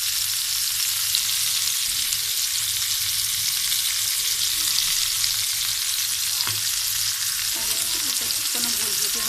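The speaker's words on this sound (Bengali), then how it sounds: "আমি মাছটা ভাজতে দিয়ে দিয়েছি" Hilsa fish pieces frying in a pan of oil, a loud, dense sizzle with fine crackles that holds steady and close throughout, with a few faint clinks late on.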